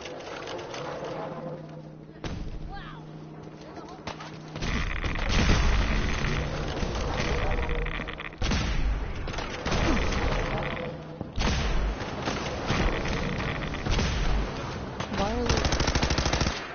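Gunfire in the video game Fallout 4, rapid bursts of automatic shots in several clusters with loud sharp cracks and pauses between, mixed with game noise and some speech.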